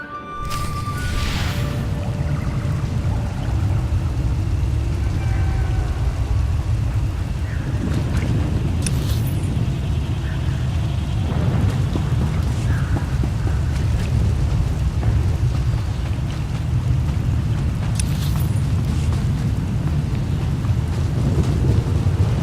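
A stormy scene in the SWTOR video game: rain and wind roar steadily, with low rumbles and a few brief sharp cracks, and nobody speaks.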